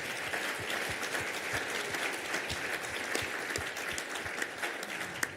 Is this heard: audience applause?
yes